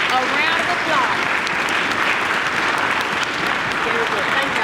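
Audience applause fills a school youth orchestra's spring concert hall, a steady, dense wash of clapping from many hands that holds evenly for several seconds.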